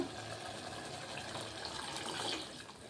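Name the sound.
water being poured into pot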